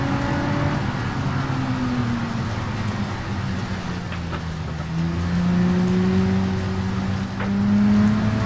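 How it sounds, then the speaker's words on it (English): Heavy rain drumming steadily in the BeamNG driving game, a dense hiss layered over a droning car engine whose pitch slowly rises and falls as the vehicle drives on. "It hasn't gotten any lighter with the rain quite yet."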